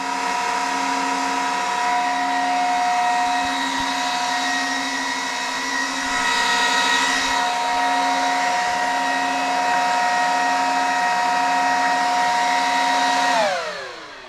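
The fans of a Dell R410 server roar loudly and steadily, close to the microphone, with a constant high-pitched whine, then spin down as the machine shuts off at the end.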